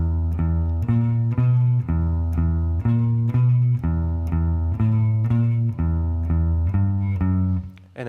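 An electric guitar plays a riff slowly with palm-muted, pitched notes in a steady repeating pattern, loud and close with no talking, and the last note rings out and fades.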